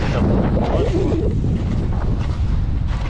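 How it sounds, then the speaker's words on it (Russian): Strong wind roars and buffets the microphone continuously on a frozen river during winter fishing in snowy weather, a loud, rumbling rush with no clear talk. "Ветер очень сильный,"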